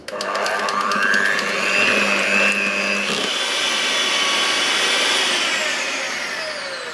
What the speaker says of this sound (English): using electric beaters, we're just going to mix this together for about 2 to 3 minutes